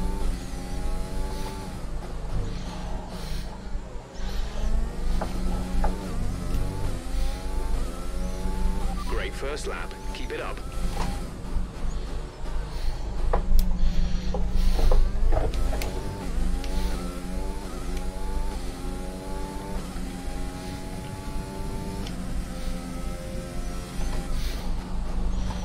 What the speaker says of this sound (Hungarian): Ez nem a Honda motornak a hangja amúgy?